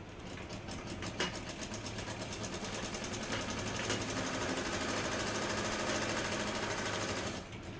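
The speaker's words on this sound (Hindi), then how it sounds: "मैं टोपे में मशीन के साथ सिलाई कर रही हूँ" A sewing machine runs steadily for nearly eight seconds, stitching pleats into a suit with a fast, even whirring chatter that holds close and loud from start to finish.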